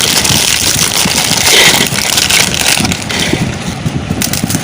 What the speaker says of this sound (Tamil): இப்போ நம்ம வந்து மிக்சி ஜாரில் சேர்த்து நல்லா பவுட்ரு போல் நம்ம நைஸாக அரைச்சி எடுத்துக்கலாம்